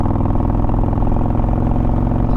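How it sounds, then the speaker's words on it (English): A Harley-Davidson motorcycle engine runs loud and close in a steady, throbbing rhythm with no break or pause. "I'm getting a lot higher RPMs with just a small amount of throttle."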